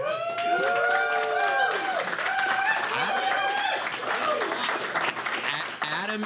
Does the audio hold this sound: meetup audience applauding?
yes